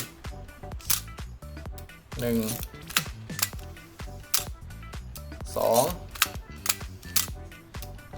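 Shutter of a Nikon FM2 film camera fires repeatedly at test speeds, crisp separate mechanical clicks at an uneven pace, with two longer whirring releases; someone speaks between the shots.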